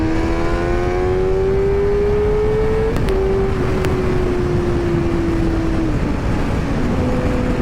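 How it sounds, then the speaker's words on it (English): A 2023 Suzuki GSX-R600 motorcycle pulls hard in third gear from highway speed, the engine whine rising steadily in pitch for several seconds over heavy wind roar, then easing off, loud and close. "what we're gonna do is a pull from third gear"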